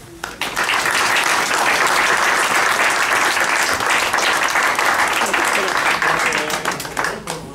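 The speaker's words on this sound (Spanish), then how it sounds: "primero pido un aplauso para este señor" A crowd at a book launch applauds the editor, a loud dense burst of clapping that swells quickly, holds steady for several seconds, then thins out toward the end.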